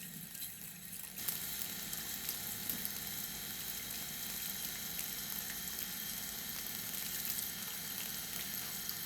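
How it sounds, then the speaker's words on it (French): Running tap water splashes steadily over a small brush as it is rinsed, a continuous close hiss of flowing water with no voices. "Pareil, je rince le petit pinceau."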